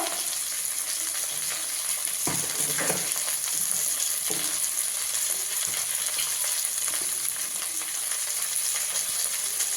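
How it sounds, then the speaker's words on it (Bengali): Potato and eggplant fry in a pan for a leafy-greens dish, a steady close sizzle running throughout with a few brief stirring scrapes and clinks, no talking. "আলু আর বেগুনটা ভালো করে একটু ভেজে নেব।"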